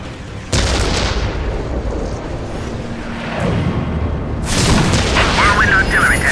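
Whirlwind artillery tank firing in the Warhammer 40k Dawn of War video game, heavy booming blasts and cracks over a dense battle din, with game voices talking through it.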